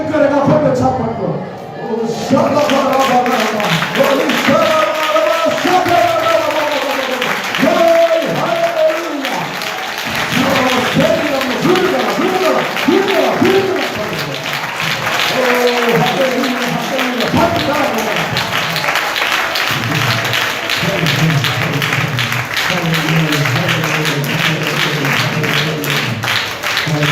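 Audience at a church sermon clapping rhythmically together, loud and sustained under an amplified preacher's voice that continues throughout.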